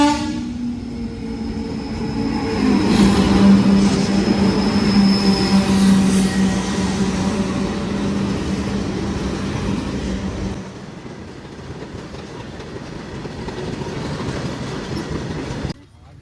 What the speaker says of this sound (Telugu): ఇలా ట్రైన్ అవుతుందంట.